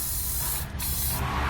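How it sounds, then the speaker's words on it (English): Spray lubricant hisses from an aerosol can onto a muffler hanger under a 2017 vehicle, two close, loud, continuous bursts split by a brief pause. "I'm going to spray down the hanger"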